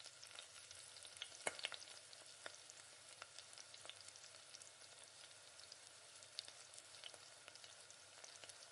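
Mustard, cumin and fennel seeds splutter in hot oil, a faint, close crackle of scattered pops and ticks over a soft, low sizzle.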